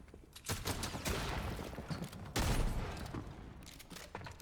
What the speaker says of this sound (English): I've no idea what shotgun this is